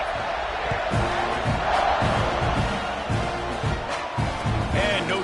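A stadium crowd at a Florida Gators football game roars in a dense, sustained wall of cheering and shouting, with a broadcaster's voice talking over it.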